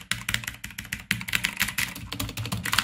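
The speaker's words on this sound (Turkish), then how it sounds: "Tuşlara dokunduğumuz zaman nasıl bir ses geliyor onu göstereceğim." Rapid, crisp clicking comes from steady typing on a Game Power Ogre RGB mechanical keyboard fitted with blue switches. The keystrokes are close-miked, dense and continuous, with one brief gap and no voices.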